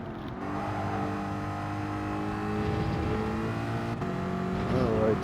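A race car engine in Gran Turismo 7 holds a loud, steady whine at high revs through a long stretch of a race lap, with a brief break near the end before it picks up again.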